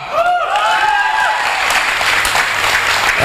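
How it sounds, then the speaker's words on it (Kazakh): A wedding crowd bursts into loud, sustained applause up close, with whoops and a voice over the clapping. "Сонымен бірінші, Қуандық пен Хурлиманға шапалақ."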